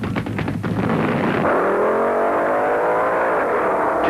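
Two 1970s drag cars, a Dodge Challenger and a Pontiac Firebird, race down the strip with a loud roaring engine note that rises steadily in pitch as they accelerate away.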